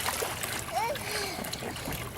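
A young child splashes in a swimming pool while learning to swim, with choppy water splatter continuing throughout and an adult's voice and a voice briefly audible nearby.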